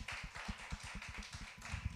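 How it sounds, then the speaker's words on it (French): A small comedy-show audience claps for a performer, producing quick, fairly quiet, uneven applause that carries on throughout. "On peut applaudir Félix Auger?"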